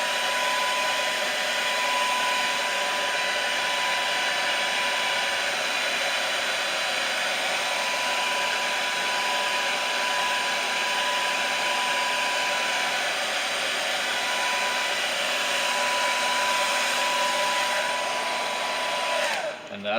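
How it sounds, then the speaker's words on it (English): Blow dryer drying paint on a topwater fishing lure, a steady, close, whining blower hum running continuously before cutting off at the end. "Alright, take the blow dryer."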